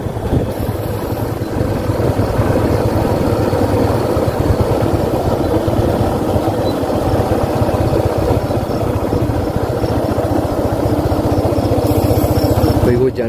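A motorcycle engine runs steadily throughout while riding, a loud continuous drone with rough low rumble and wind buffeting, no clear speech.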